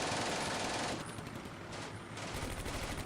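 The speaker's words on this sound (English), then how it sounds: "The MG returning back fire" Bursts of machine gun fire from an MG returning fire in the Combat Mission video game, rapid rattling shots layered with distant crackle and dense, sustained gunfire noise.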